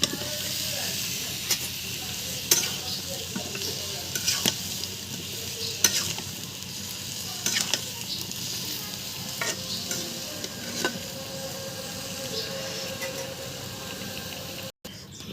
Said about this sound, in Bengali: মশলা দিয়েছি, মশলা কষিয়ে নিয়েছি ভালোভাবে। মাংসগুলো ঢেলে দেব।